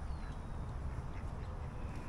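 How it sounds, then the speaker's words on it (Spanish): Ducks quacking at a park pond in San Antonio, Texas, a dense, steady chorus of calls close by over a low outdoor rumble, with no talking. "Andan bien alebrestados los patos"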